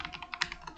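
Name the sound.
computer keyboard typing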